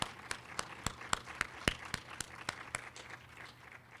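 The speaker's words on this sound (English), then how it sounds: "Please give her another round of applause." A small audience at a domestic violence candlelight vigil and awards event gives a thin round of applause: sparse, distinct hand claps, fairly faint, that thin out and fade over a few seconds.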